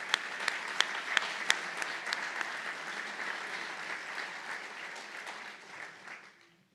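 A crowd applauds county employees honored for 25 years of service at a Board of Supervisors meeting, with steady clapping and a few sharp louder claps early on before it thins and fades out near the end.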